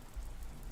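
Steady rain for relaxation, falling as a soft, continuous patter with low rumbling underneath, quiet and even throughout with no voices.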